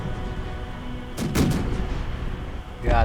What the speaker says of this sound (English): Got more cannons firing.